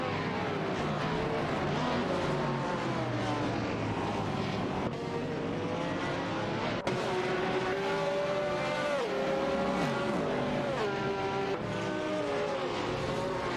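Engines of race cars in a racing game, including a McLaren and a Nissan, drone and whine continuously. Pitches rise and fall as cars shift and pass, with a couple of sharp transient clicks along the way.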